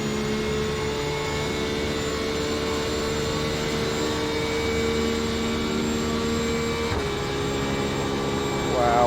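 A Porsche 911 RSR race car engine in the iRacing sim at Spa-Francorchamps drones steadily with a tonal, harmonic whine. It holds a nearly constant pitch for several seconds, with a brief shift near the end.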